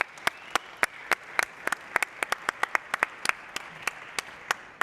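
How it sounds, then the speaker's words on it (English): At a startup conference fireside chat, the audience applauds a business services director walking on stage. The crowd noise is a light murmur, punctuated by distinct, sharp individual claps that ring out at an irregular pace throughout. "Round of applause for Jaume, please"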